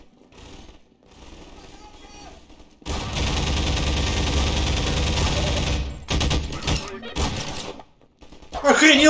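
Automatic gunfire from the video game Half-Life 2 rattles in a dense, loud burst lasting about three seconds, followed by a few scattered shots, with a voice talking over the game.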